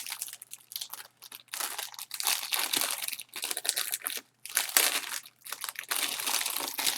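Plastic and cardboard packaging of a Rii Mini Keyboard X8 is opened up close, giving continuous loud crinkling and crackling with short tearing rustles and brief pauses.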